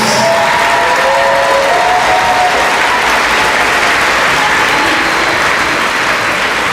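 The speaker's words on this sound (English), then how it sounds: "Let's give another round of applause for our our first graders." Audience at a kindergarten promotion ceremony gives first graders a long round of loud, sustained applause with some faint cheering, steady for nearly seven seconds without speech over it.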